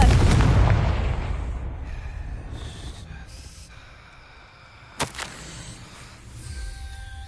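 Confringo blasting spell in Hogwarts Legacy, a loud explosive boom at the start decaying into a rumbling tail, followed by a sharp smaller crack near the five-second mark amid game effects.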